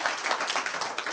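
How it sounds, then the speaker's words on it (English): Audience applause for a guest recognized in the crowd, a brief, dense wash of clapping at steady moderate level with no talk over it. "Let's have a round of applause for him."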